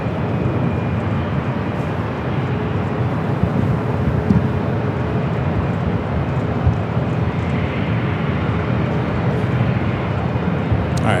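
A Boeing 747 airliner arriving at Los Angeles LAX airport, on a flight heading back to Frankfurt, produces a constant far-off jet roar that stays even for the whole stretch, without voices.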